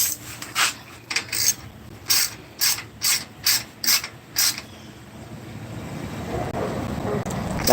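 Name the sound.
ratchet wrench with 10 millimeter socket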